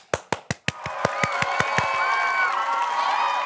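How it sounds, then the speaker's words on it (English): Audience applause for the So-and-So Show players at a children's church program: a run of sharp, evenly spaced claps quickly gives way to a sustained wash of crowd clapping and cheering. "let's give a big round of applause for the So-and-So Show players."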